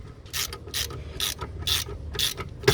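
A ratchet wrench tightens a bolt on a Volkswagen Golf 4 steering knuckle, giving about six quick, close ratcheting bursts in a steady back-and-forth rhythm.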